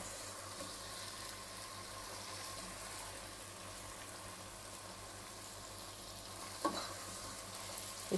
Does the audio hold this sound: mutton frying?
yes